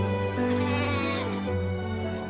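A goat bleats in a wavering, nasal call lasting about two seconds while walking down a wedding aisle. It is close and fairly loud, with no talking over it.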